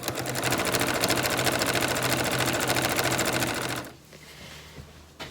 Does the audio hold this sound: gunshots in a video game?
no